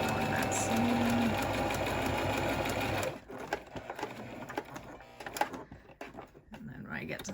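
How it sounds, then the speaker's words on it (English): A sewing machine runs loudly and continuously, stitching along a seam on a reinforced face mask, then stops, leaving quieter fabric handling and small clicks. "Just put it and sew on that seam."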